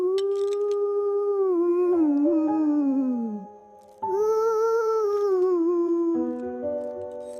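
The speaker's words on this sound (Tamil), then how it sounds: "அது காட்டில் இருக்கும் சாப்பாட்டு ஓநாய்." A wolf in a forest howls in two long sustained cries, each rising and wavering before sliding down and fading, loud and close with a brief pause between them.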